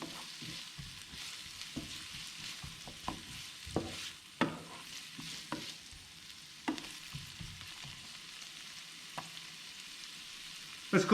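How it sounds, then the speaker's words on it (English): Onions cooking in a pan for a steak with beer sauce, a soft steady sizzle broken by repeated clacks and scrapes of stirring, fairly quiet and close, with no voices. "Let's cook the onions for a little bit."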